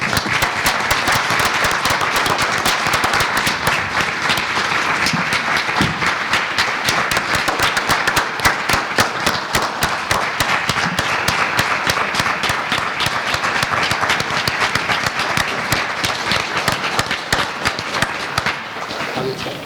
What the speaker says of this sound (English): Please help me give a big round of applause for Mr. Kehoe.